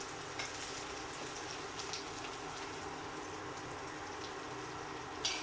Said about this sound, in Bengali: করলাটা আমার ভাজা হয়ে আসছে